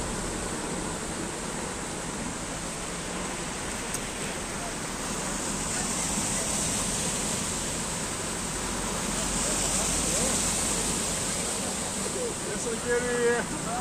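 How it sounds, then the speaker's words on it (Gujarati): Heavy floodwater from monsoon rain pouring across the Bhuj–Naliya highway near Mangvana in Kutch, a steady broad rushing wash like surf that swells slightly midway, loud and continuous with no clear voices. "મંગવાણા પાસે ભારે પાણી ફરી વળ્યા છે."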